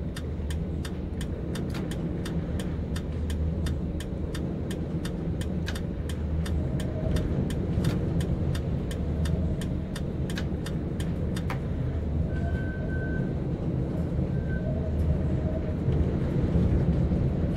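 Tram rolling along its tracks in the TramSim Vienna driving game, a steady low rumble with regular rhythmic clicks like rail joints passing, running continuously at an even level with no talking.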